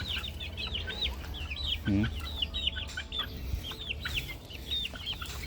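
Bulik gamefowl chickens cluck in a grassy pen in a steady run of short, repeated calls, with one louder, harsher call partway through, heard over a low background rumble.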